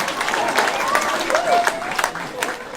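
An audience claps steadily at a comic Samoan show at the Polynesian Cultural Centre, a dense patter with voices and a few cheers riding over it.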